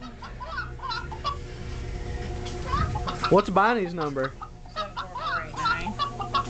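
A chicken clucks and squawks in a few loud rising calls close by, mixed with several people talking over steady background noise.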